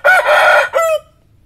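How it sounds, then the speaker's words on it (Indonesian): A Bangkok rooster crows close and loud in one full cock-a-doodle-doo, a rising burst followed by a drawn-out tail that cuts off into quiet. "Ini ayam jago saya."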